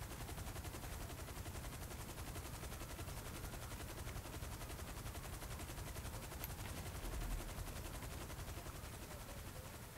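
Continuous rapid gunfire in the GTA 5 Online video game on Xbox One, a dense, unbroken machine-gun rattle that stays loud and steady throughout with no talk over it.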